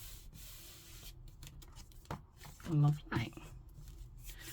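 Paper is rubbed down by hand inside a handmade file folder journal, soft brief scuffing strokes that are quiet and close, with a voice speaking briefly amid low room noise.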